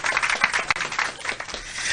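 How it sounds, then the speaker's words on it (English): Audience applause at a political press conference for the National Democratic Congress in Ghana, a dense steady patter of many hands clapping throughout, moderately loud with no voices on top. "Please, a round of applause for her."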